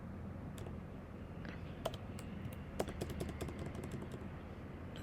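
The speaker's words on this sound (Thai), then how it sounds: "ก็พิมพ์ล็อกอิน แล้วเราก็พิมพ์คำว่าล็อกอินนะคะ" A login being typed on a computer keyboard, rapid light key clicks in irregular bursts over a steady background hum, with no voices heard.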